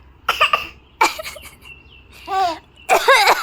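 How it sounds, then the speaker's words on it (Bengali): Several short, close coughs come in separate bursts, spaced by pauses, with a brief voiced sound between them. "কাশি দাও।"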